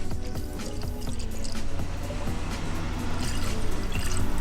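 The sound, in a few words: coolant being poured into a Honda Del Sol engine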